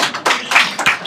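A small audience at a live Emacs tech talk gives brief, sparse clapping, a few close, sharp hand claps in quick bursts that stop almost at once.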